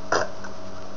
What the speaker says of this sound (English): Then we have a contest on who can belch the biggest burp.